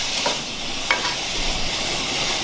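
Noodles are mixed and fried in a pan, a close steady sizzle with a couple of brief scraping stirs, no talking.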